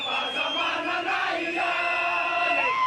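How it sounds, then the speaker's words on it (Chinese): Large crowd of protesters in Antananarivo, Madagascar, chanting together in a dense, sustained roar with rising and falling voices and shouted cries throughout. "示威民众喊结束独裁、宪法自由"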